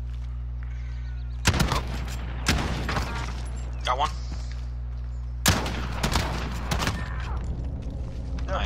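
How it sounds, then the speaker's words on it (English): Video game gunfire rings out in several sharp, loud bursts and volleys over a steady low hum, while a player talks briefly between the shots. "I heard gunfire."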